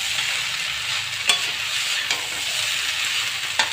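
Poha is stirred and fried in a pan, with a continuous close sizzle and scattered sharp scrapes and taps from a spoon against the pan.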